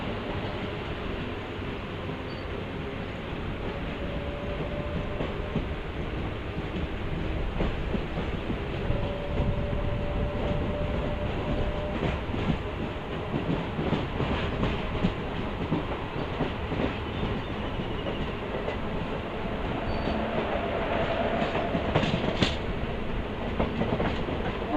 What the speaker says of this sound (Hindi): इधर एल्को लोकोमोटिव लगे हैं। WDG3A का लोकोमोटिव।